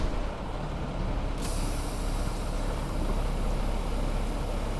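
Semi truck's air brake system building pressure while parked, a steady loud hiss and rushing of air with idling engine rumble beneath, constant and close, no voices.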